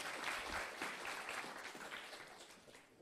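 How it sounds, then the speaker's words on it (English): Audience applause at a bridge showcase and awards event, dense clapping that is strongest early and tapers gradually, heard alone without talk. "the bridge still deserves a round of applause"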